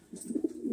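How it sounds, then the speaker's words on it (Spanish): A one-year-old blue pigeon coos close by, a few soft, low throaty pulses in quick succession, with no talk over it. "Esta es una paloma que tiene un año."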